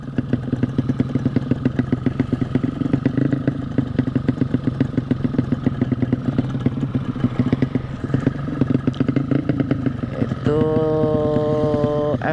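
A Yamaha MX 200 cc motorcycle engine runs steadily at close range with a fast, even rapid-fire exhaust pulse and mechanical clatter, the tone rising briefly near the end as the throttle is blipped.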